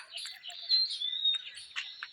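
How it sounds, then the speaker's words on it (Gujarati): Sparrows chirp and twitter in quick, thin bursts, fairly faint and somewhat distant, with no voices. "અહીંયા જો કેટલા બધા ચકલા પણ બેઠા છે"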